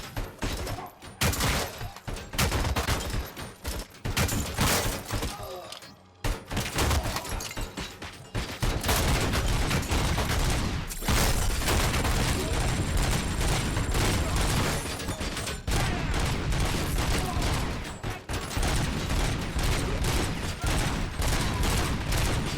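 Sustained gunfire in the video game RoboCop: Rogue City, dense bursts of shots and rapid volleys rattling almost continuously for over twenty seconds, loud and close, with a brief lull before the firing resumes.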